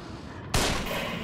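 Gunfire in The Evil Within, a single sharp loud shot that cuts in suddenly after a quieter stretch and leaves a lingering reverberant tail.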